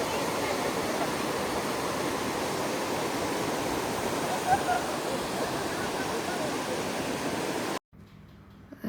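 Steady, dense rush of falling water at a waterfall in Andhra Pradesh, heard close and loud for most of the clip before cutting abruptly to a quieter background near the end.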